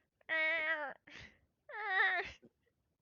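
A person imitates a tiny kitten with two drawn-out, wavering mews, each followed by a short breathy trailing sound, close to the microphone in a quiet room.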